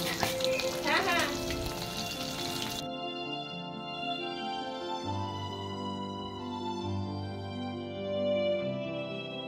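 Bata fish frying in oil gives a steady sizzle and crackle that runs throughout, close and moderately loud, with a brief burst of busier spattering at the start before it settles into a continuous bubbling fry.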